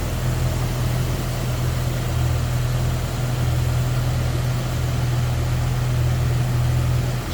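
A 2000 Jeep Wrangler 4x4 engine idling smoothly and steadily up close, an even low hum with no voices over it.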